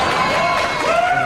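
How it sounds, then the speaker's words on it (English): A studio audience at a late-night comedy show breaks into brief, loud applause mixed with crowd noise and a few cheers, a dense clapping wash lasting only a moment. "I'm afraid to know what you're applauding at there"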